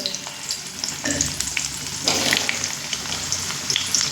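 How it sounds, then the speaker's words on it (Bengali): Potato and pumpkin pieces fry in hot oil on a high flame, giving a dense, continuous sizzle that swells as more goes in, with occasional stirring scrapes, close up and without talk. "হাই ফ্লেমে কিন্তু ভাজতে হবে"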